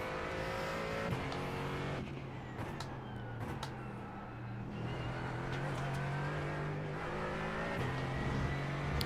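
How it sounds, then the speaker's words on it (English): Race car engine in the iRacing video game revs loudly and continuously in first gear as the rear tyres spin, its pitch shifting with brief gear-like changes throughout. "Yep, first gear lit up my rear tyres."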